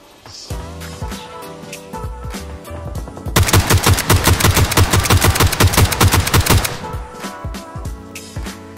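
G36 assault rifle fire in the battle-royale game PUBG: a few scattered shots, then a long, loud, rapid run of closely spaced cracks for several seconds before tapering into a couple of isolated shots, with no talking.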